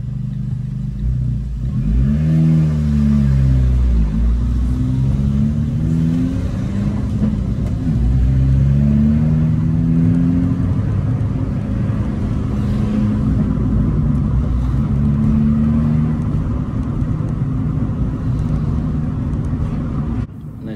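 A car engine runs steadily during a driving mock test in Enfield, a close, continuous low hum whose pitch rises and falls with gear changes and revs throughout.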